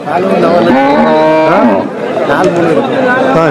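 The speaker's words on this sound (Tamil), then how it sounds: "நாட்டு மாடு தான்" At the Pavoorchatram cattle market, a native-breed cow lets out a long, loud, close moo that bends in pitch, followed by a second lowing call, with crowd chatter behind.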